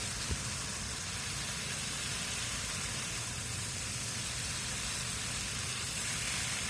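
Tilapia fish frying in oil in a pan over a medium flame, a steady broad sizzle holding evenly throughout, moderately close with no voices.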